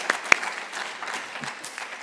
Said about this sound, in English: Shall we give them another round of applause?